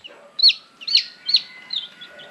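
A Thai game chicken of the Shukee type, a grey bird, gives a short series of four sharp, rising clucking calls, close and clear against a quiet background.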